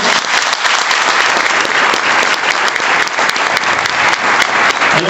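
Loud, steady applause from an audience at a political presentation in Ushuaia, dense clapping filling the whole stretch with no talk over it.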